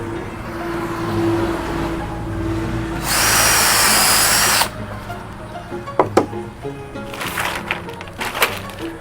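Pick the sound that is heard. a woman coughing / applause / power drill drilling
power drill drilling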